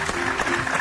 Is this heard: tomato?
no